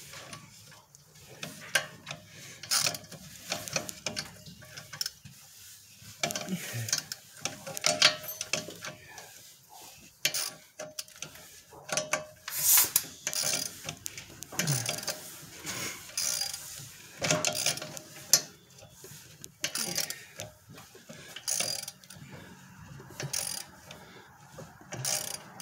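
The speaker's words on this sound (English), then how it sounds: "I'm having to clamp the pin to keep it from rotating while I tighten the bolt" A wrench ratchets as it tightens the rear brake caliper bolt on a 2014 Volvo XC60, with the pin clamped in vise grips; quiet, irregular bursts of clicking come close up, with short pauses between and no talk.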